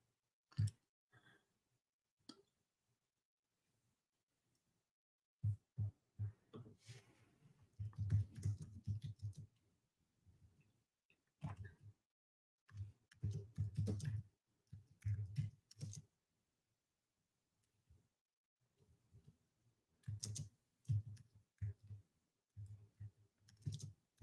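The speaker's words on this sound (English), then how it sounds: "That's a nice sounding keyboard." Clicky keys on a computer keyboard being typed in irregular bursts, fairly close and moderately loud, with quiet gaps between flurries and no voices.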